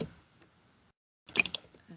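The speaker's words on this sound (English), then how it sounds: "I'm not typing properly." A computer keyboard is typed on in two brief bursts of close, sharp clicks separated by a near-silent gap.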